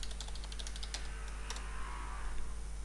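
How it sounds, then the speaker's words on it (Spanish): Someone types a password on a computer keyboard, a quick run of close, light key clicks followed by a couple of firmer taps over a low steady hum, with no speech. "hago un clic acá y pongo mi contraseña"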